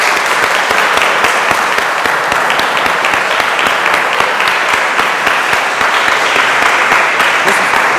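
Audience at an election debate in a college hall bursts into loud, dense, sustained applause that holds steady throughout, close and filling the room with no speech over it.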